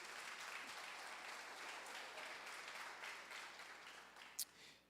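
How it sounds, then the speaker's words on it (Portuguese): A church congregation applauds with a continuous, fairly faint wash of clapping that holds steady, with one sharp click near the end. "Você pode dar uma salva de palmas a Ele por isso?"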